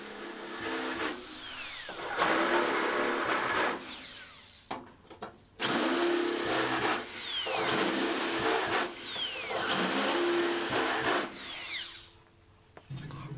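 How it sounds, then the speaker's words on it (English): A power drill bores plug-weld holes through a car's sheet-metal floor pan while fitting a front seat track support bracket, running in several loud sustained bursts separated by brief pauses, with no talking. "After drilling the holes for the plug welds in the floor pan"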